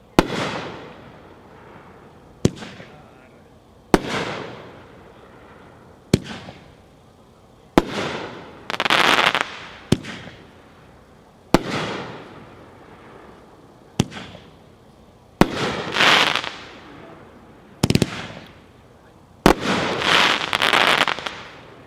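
Fireworks cake shots fire one after another at a product demo outdoors: about a dozen sharp launch thumps, each followed by a loud crackling or glittering burst, spaced a second or two apart and heard at a moderate distance.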